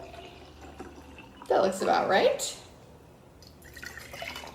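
Warm tap water pours into small jars in a short, splashing burst partway through. A person talks quietly before and after.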